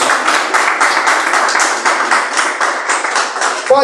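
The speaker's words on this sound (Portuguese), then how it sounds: "palmas para Jesus" Loud, close clapping from a church congregation applauding for Jesus during a Portuguese-language service, rapid and steady throughout with a brief voice at the very end.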